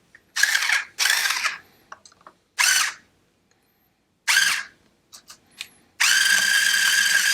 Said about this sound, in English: Get your drilling on.